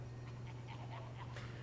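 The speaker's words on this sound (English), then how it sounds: "I've been turned into a dog." Dog panting from the LEGO Star Wars The Complete Saga video game on Wii, a quick rhythmic series of breathy pants over a steady low game hum, fairly quiet and without talk.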